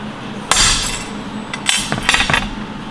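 Hammer blows beating copper wire into a copper rose stem, a few sharp metallic strikes clustered together with a clinking ring, close and fairly loud, no talking.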